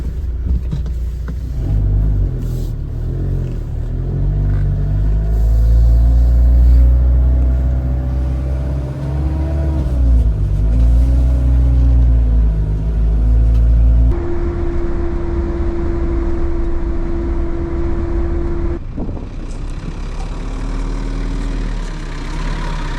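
A Suzuki Alto Works small car idles with a steady low engine rumble, then pulls away with the engine note rising and falling through gear changes, heard from inside the cabin.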